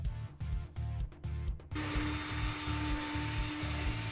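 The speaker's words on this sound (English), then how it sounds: "drilling some holes through the side just for extra support" A power drill bores holes through the side of a homemade robot, rhythmic whirring bursts with short pauses, then a sustained close, steady whine as the bit runs continuously.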